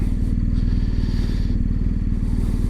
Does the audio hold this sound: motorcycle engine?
yes